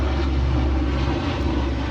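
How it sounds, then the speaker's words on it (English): An airplane passes overhead, its steady engine drone filling the whole clip, loud and continuous with a low rumble and no speech. "the airplane is over my head."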